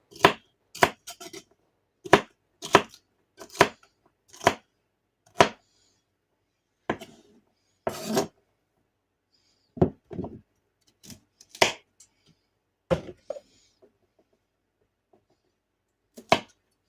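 Celery being chopped into chunky pieces with a knife on a cutting board for hamburger soup: a series of sharp, close knocks, quick in pairs and runs at first, then sparser, with short pauses and no talk.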